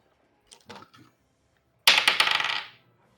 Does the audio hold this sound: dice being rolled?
yes